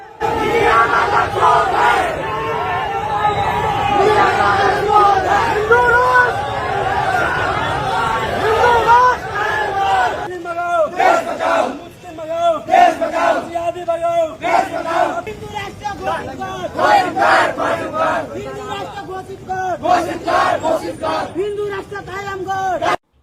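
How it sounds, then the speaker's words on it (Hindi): Thousands of protesters chant a slogan together at a Nepal bandh rally, a loud massed roar of voices with rhythmic shouted bursts rising in the second half over steady crowd hubbub. "हजारों लोगों की भीड़ एक ही नारा लगाने लगी"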